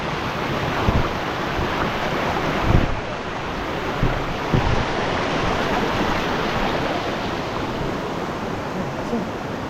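River water rushing at a rocky crossing after a storm, a loud, continuous broadband wash mixed with wind buffeting the microphone, with a few soft thumps along the way.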